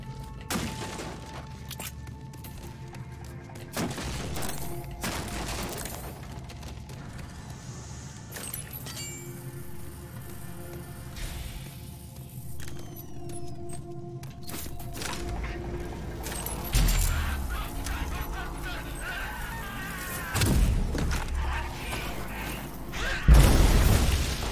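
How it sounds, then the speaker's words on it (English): Heavy weapon blasts and explosions from the Rage 2 hyper cannon ring out in bursts across a game soundscape, with sharp booms and shattering crashes that build louder toward the end. "Let's play with the hyper cannon for a bit."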